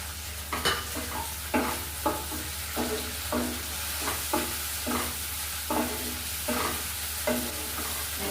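Chopped tomato and green chili sizzle steadily in hot oil in a pan while a spoon scrapes and stirs in regular sharp strokes, close and fairly loud, with no talking.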